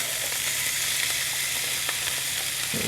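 Canned corned beef hash fries in a cast iron skillet, crisping and browning with a constant close sizzle and faint scattered pops, loud and even throughout.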